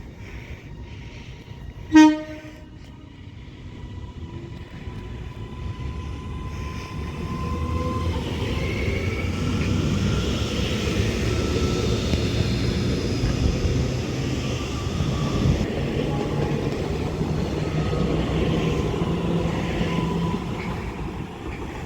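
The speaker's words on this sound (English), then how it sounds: "Now departing is going to be the 1406 Transpennine Express service to Manchester Airport" A TransPennine Express Class 397 train departs Bolton station, opening with a short, loud horn toot, then a steady, building rumble and whine of the train pulling away along the platform.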